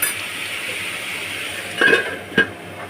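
A lid goes onto a cooking pot of ash gourd over a soft, steady sizzle. Two sharp metallic clinks ring out close together near the end.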